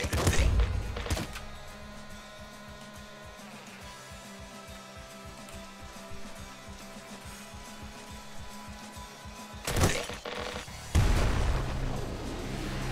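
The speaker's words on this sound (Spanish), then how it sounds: "Les mató de un balazo, a los bandidos." Gunfire in the video game Nuclear Throne, with sharp shots and thumping bursts at the start and end and a fast, even rhythm of muted impacts between, fairly quiet overall.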